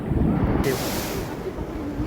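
Ocean waves washing up on a beach in Goa, a continuous broad rushing surf with wind buffeting the microphone, a louder gust at the start settling into steady wash while a person talks.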